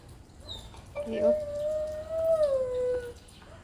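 A dog lets out a single drawn-out howl that holds a steady, wavering pitch for about two seconds before trailing off, set against a faint background hiss.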